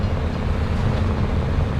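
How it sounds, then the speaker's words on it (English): A video-game train in Farming Simulator 22 rumbles by close up, a dense, steady roar of rolling noise with no gaps. "Oh, trains coming."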